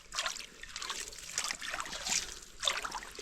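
A small trickle of irrigation water runs toward a planted field, gurgling and splashing close by. It comes in uneven pulses of dribbling water with brief quieter gaps between them.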